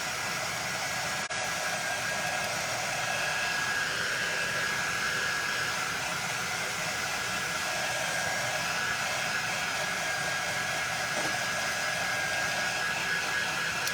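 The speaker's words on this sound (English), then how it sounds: "I'm just using my dryer till it's dry to the touch" A hair dryer blowing steadily on painted fabric of a tote bag, a constant close whooshing hum with a faint whine that holds unchanged throughout.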